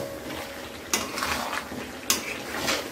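Olive pickle is stirred and cooked in a pan, a steady frying hiss broken by two sharp scrapes of the spoon against the metal about a second apart.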